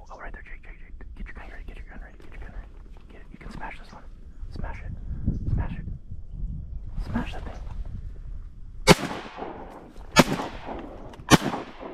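Shotguns fire during a foggy duck hunt: three sharp, loud blasts close together near the end. Before them, hushed whispering and quiet movement come from close by.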